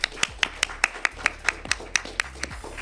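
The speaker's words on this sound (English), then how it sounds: "Everybody give him a big round of applause out there." Handful of people clapping for a guest doctor introduced on a senior community show, about a dozen sharp evenly spaced claps close by, steady and moderately loud with no talk over them.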